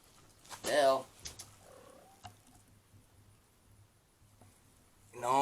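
Cats purring up close, a soft low rumble running faintly beneath a few brief meows and chirps, with quiet gaps between.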